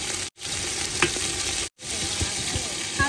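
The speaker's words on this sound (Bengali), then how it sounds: "হালকা ব্রাউন কালার করে ভেজে নিচ্ছি" Onion and chili fry in a pan with a steady, close sizzle, and a utensil scrapes and stirs in a few irregular knocks. The sound stops briefly twice.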